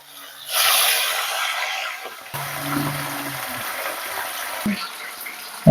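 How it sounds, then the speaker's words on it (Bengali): Pabda fish frying in hot mustard oil, a steady broadband sizzle that swells loudly as the fish go in, then settles into a softer continuous crackle with a few small pops. "তেলটা গরম হয়ে গেছে মাছগুলো ভেজে নিচ্ছে"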